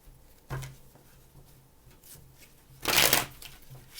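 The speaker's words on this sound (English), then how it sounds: "Two more shuffles, please." Tarot cards are shuffled in two quick bursts, one brief riffle and then a louder, longer shuffle, close by in a quiet room with no talking.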